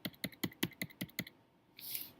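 Arrow keys on a computer keyboard tapped in a steady run of about seven close, crisp clicks, followed by a brief pause and a softer rustle at the end, with no talking.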